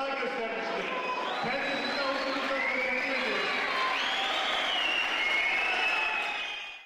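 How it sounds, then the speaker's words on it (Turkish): A crowd of students claps steadily while whistles and cheers rise over the applause, which stays loud before tapering off at the end. "Öğrencilerin alkışları arasında konuşan Başkan Tartan"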